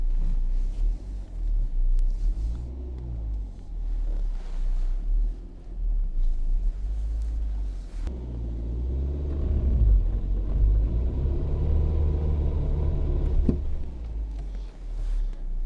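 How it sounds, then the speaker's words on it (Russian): A Geely Emgrand X7 strains to climb a bump with one side, giving a steady low engine rumble that swells midway, with wind buffeting the microphone and no talk. "Сейчас попробуем заехать на бугорок одной стороной."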